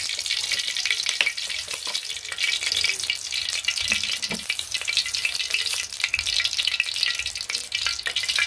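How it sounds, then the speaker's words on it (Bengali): Oil heating in a wok for frying potatoes in a village kitchen, a steady crackling sizzle with sharp popping spatters and occasional stirring clatter, moderately loud and without talk. "তো এই যে আলু ভাজার জন্য তেল দিয়ে দিল"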